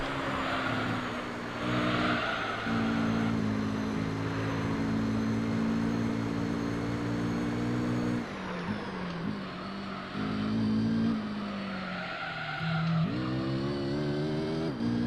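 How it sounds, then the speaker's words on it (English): A race car in Gran Turismo 3 drives with a sustained engine drone and shifting pitch, while tires squeal and skid repeatedly through corners. "Try to keep the car on the road for the entire lap."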